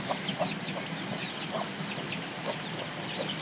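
Chickens and a rooster cluck softly at a distance over a steady outdoor background hiss near wheat fields, with scattered short calls throughout.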